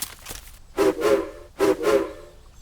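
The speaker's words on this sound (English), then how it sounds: "Hero blew his whistle. It sounded like a duck quacking." A steam engine whistle sounds in two short double toots, a reedy honking tone that resembles a duck quacking, close and moderately loud.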